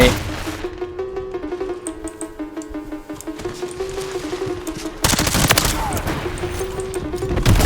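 Rapid automatic gunfire from a modified weapon in the video game Call of Duty Warzone, loud, dense bursts running throughout, growing heavier near the end, with game music and effects underneath.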